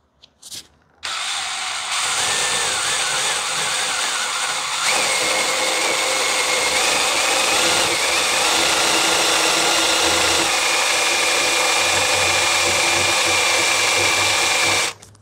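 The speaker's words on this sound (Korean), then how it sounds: "한번 뚫어 보겠습니다" A power drill fitted with a 6mm bit bores a hole during a car audio install, starting with a brief burst and then whining steadily and loudly for about fourteen seconds before stopping abruptly.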